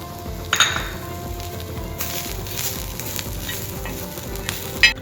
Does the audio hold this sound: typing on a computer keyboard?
no